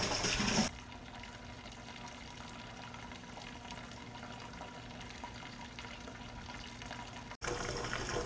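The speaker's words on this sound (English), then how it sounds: "The rest of my strike water in here" Strike water pours steadily into a home brewing vessel while making a chocolate peanut butter oat stout, a continuous gushing fill that stops abruptly near the end, with no talking.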